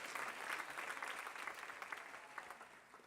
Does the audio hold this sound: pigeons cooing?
no